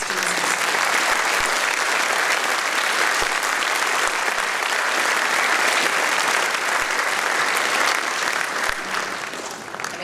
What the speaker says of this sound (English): So can we just give another big round of applause to the students?